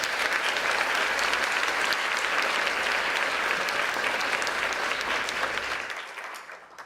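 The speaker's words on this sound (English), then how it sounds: "Please give her a round of applause." Steady applause from an audience at a literary awards ceremony fills the room, holding strong for several seconds before tapering off.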